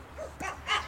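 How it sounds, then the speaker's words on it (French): A pet dog gives a short series of soft, high yips and barks, three quick vocalizations within a second, fairly faint and a little distant. "Mon chien qui aboie, merci, c'est génial."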